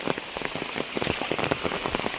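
Close, dense monsoon rain patters on a surface in a forest in Konkan, with many distinct drops tapping in a quick irregular rhythm throughout.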